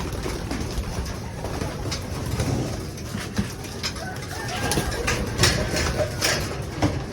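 Young pigeons in a loft coo and rustle close by, a dense layer of soft murmuring calls with scattered flutters and scratchy clicks, steady throughout with no speech.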